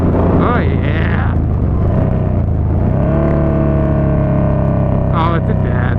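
A Yamaha Bolt motorcycle rides along a road while closing in on a DRZ, its engine rumbling steadily and loudly up close, with rising revs and passing wind noise. A rider talks over it now and then.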